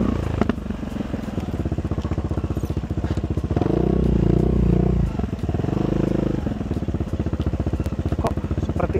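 A motorcycle engine putters along continuously, rising into a louder, rougher roar twice as the bike accelerates while riding.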